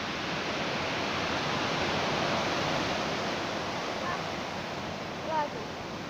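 Strong sea waves break on a very narrow beach, a loud, continuous broadband roar of surf with no pause, steady from start to finish.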